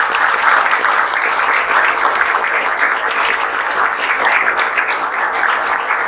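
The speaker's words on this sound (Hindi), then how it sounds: "तो हम चाहेंगे आप लोग एक बार जोरदार ताली" Vigorous applause from a room of students and parents at a coaching class celebrating JEE Main 2024 results, many hands clapping loudly and steadily for several seconds with nobody talking.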